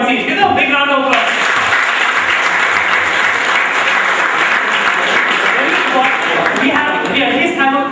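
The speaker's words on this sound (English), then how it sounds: "Give them a big round of applause." Loud, full audience applause for quiz teams at a memorial quiz competition, a dense roar of clapping that swells and holds steady, with brief voices at the start and end.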